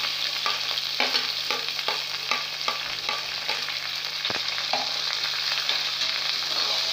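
Onion frying in a pan for vermicelli upma gives a continuous close sizzle, with a spatula stirring and tapping the pan in a fairly regular rhythm.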